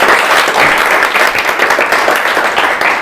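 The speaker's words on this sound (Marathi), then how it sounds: "दादांसाठी पुन्हा एकदा जोरदार टाळ्या" Loud, dense applause from a quiz-show audience cheering a contestant, a sustained burst of clapping close up with no break.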